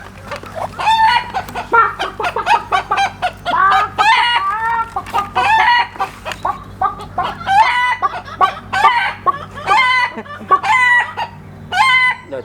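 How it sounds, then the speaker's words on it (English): A flock of chickens clucks and squawks continuously and loudly at close range, with overlapping calls and a crow-like cry, over a steady low background hum. "Can you hear the chicken?"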